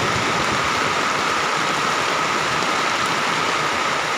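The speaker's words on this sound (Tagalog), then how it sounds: "Pumapatak ang ulan." Steady May rain falling in the afternoon, a dense continuous hiss of drops with no pauses, fairly loud and close, no voices.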